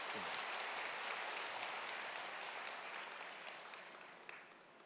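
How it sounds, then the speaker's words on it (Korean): A seminar audience applauds in a large hall, dense clapping from many hands that starts strong and gradually fades toward the end, with a faint burst near the close and no clear speech over it. "그분의 그 용기를 위해서 박수 한번 주세요."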